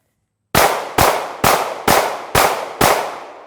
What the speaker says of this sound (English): Let's do 6 shots, left, right, left, right, left, right, and just see what you think of how that gun drives.